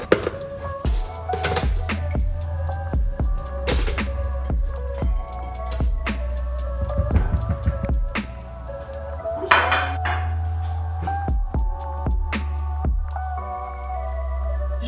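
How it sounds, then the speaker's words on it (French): Kitchen clatter as food starts cooking in a pan: metal pots, utensils and clinking dishes knock and scrape repeatedly over a steady low hum, fairly close, with no talking. "C'est bon, ça commence à cuire."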